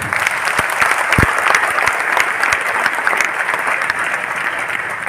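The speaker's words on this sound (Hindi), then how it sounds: "तो जरा प्यारे प्यारे पेरेंट्स के लिए जोरदार हाथ ऊपर करके तालियां बजाएं।" A crowd of students and parents at an ALLEN medical coaching event in Kota, Rajasthan, claps loudly and continuously, a thick, even roar of hands that fills the whole stretch with no speech over it.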